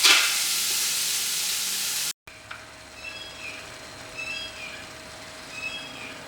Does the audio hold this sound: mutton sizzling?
yes